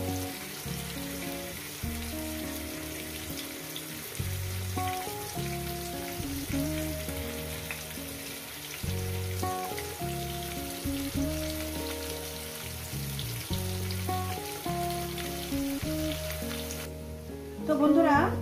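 Taro (kochu) fries over medium heat in a pan with a steady crackling sizzle, while tonal background music plays throughout; the sizzle swells louder near the end.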